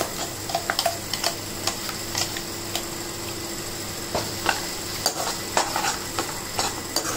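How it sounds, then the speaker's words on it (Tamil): Spinach paste being stirred into sautéed onion and garlic masala for palak paneer pasta, with a steady soft sizzle and repeated scraping, tapping strokes of a spoon against the pan, close and moderately quiet, no voices. "ஆட் பண்ணிட்டு நல்லா மிக்ஸ் பண்ணிவிடுங்க இந்த மசாலாவோட வெங்காயம் பூண்டோட"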